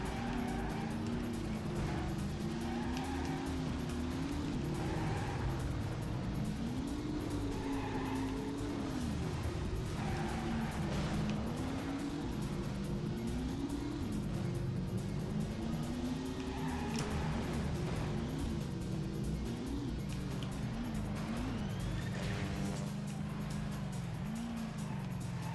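Cars racing and sliding in the video game Destruction Derby Raw, a steady engine drone with pitch swooping up and down as vehicles lose traction through turns, tyre squeals rising over the continuous loud roar.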